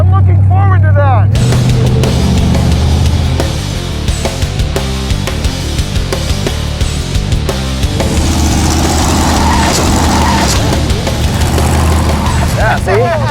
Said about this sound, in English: He's now learning what it's taking to bring the car off the ramp and higher.